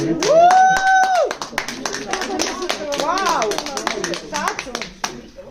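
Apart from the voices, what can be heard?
applause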